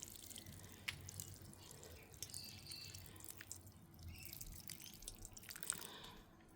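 Small water drops fall while plants are being watered, faint and sparse drips with a few clearer taps over a quiet outdoor background, no talking.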